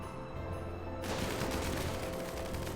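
Gunfire during a raid in the RimWorld video game: after a quiet start, a dense, rapid stream of overlapping shots breaks out and keeps going, loud and continuous.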